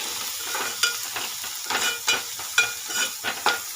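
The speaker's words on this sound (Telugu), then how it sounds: "బాగా ఫ్రై చేసుకోవాలి." Ginger garlic paste with turmeric fries in a pan under a continuous low sizzle. A spatula stirs it in repeated scraping strokes that land in an uneven rhythm, close and clear.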